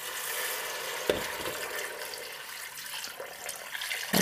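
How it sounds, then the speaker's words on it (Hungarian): Water, about one and a half litres and preferably warm, poured into a pot of Hungarian sour-cream cauliflower soup with meatballs, a steady splashing rush with a brief clatter, no talk. "És már öntöm is rá a vizet"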